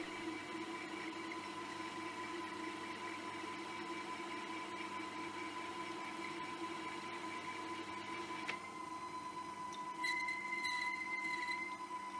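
A metal lathe runs steadily while cutting a male M8 thread on the end of a bolt action pen body, giving a constant, even machine hum. A single click comes partway through, and a slightly brighter tone follows near the end.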